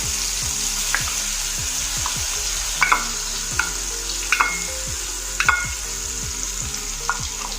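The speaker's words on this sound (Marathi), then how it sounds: "आता आपण हे जे वाटण करून घेतलेलं ना ते सर्व फ्राय करून घेऊया तेलामध्ये" Masala paste for a Makar Sankranti bhogi vegetable dish frying in hot oil, a steady close sizzle with scraping stir strokes and brief spatters recurring throughout, no one speaking.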